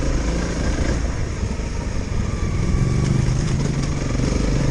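A Honda CRF 300L motorcycle engine drones steadily on a trail ride, a close, continuous buzzing rumble with slight shifts in pitch as the throttle varies.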